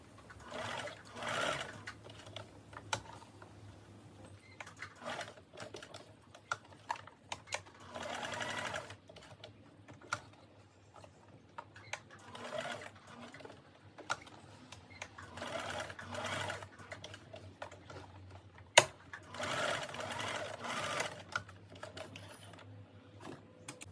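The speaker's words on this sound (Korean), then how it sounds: "허리 옆선에서부터 고무줄을 넣고 한꺼번에 봉제를 합니다." Sewing machine stitching an elastic waistband into a pleated skirt, working from the side seam, in repeated bursts of rapid mechanical running separated by short pauses, close and fairly quiet with small clicks between runs.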